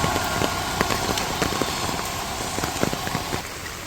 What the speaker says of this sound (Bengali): বৃষ্টি থামেও না, আর বৃষ্টি না থামলে তো গাড়িও পাবো না